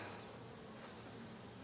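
Honey bees buzz in a dense, steady drone from an opened hive during an inspection, close and continuous with no voices.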